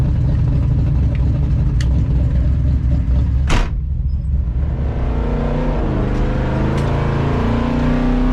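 Toyota FJ40 engine running, a steady loud low rumble throughout with a brief sharp whoosh partway through, then a continued idle drone with a slightly changed, rougher texture.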